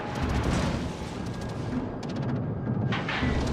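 Heavy battleship guns boom in World of Warships Legends, a Kawachi Tier 3 premium battleship, with deep rumbling blasts and rolling echoes that swell and fade across a few seconds, loud and close.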